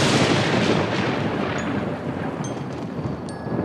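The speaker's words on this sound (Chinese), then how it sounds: "打雷自然会下雨" Deep rolling thunder rumbles on steadily through a dry spell before rain, a dense low roar filling the whole stretch with no speech, a few faint high tones drifting above it.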